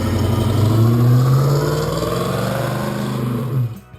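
A 1970 Chevrolet Chevelle SS 454 LS6 V8 muscle car engine revving, a loud close rumbling roar that climbs and holds steadily before cutting off abruptly near the end.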